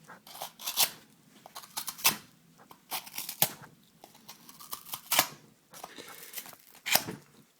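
A cheap Bolstermatic knife slices through cardboard in a cut test, making a series of close, crisp tearing and crunching bursts of varying length separated by short pauses.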